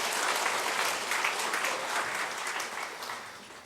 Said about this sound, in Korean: 우리 서장님 박수 치니까 우리 한번 박수 칩시다